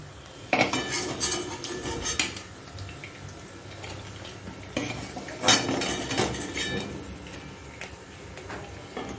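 Fried pithas lifted out and set into a dish, with clattering metal utensils and pot clinks in two clustered bursts over a low continuous kitchen background, close and without talk.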